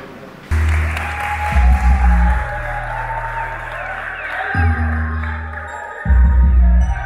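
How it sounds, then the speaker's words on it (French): An audience at a stage show claps loudly in sustained rounds, with a few whoops and cheers over music. "On l'applaudit très fort."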